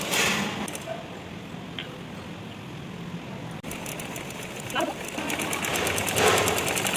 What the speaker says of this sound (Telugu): 2 పార్ట్స్ కరెక్ట్గా ఉండేటట్లు చూసుకుంటూ స్టిచ్ చేసుకోవాలి.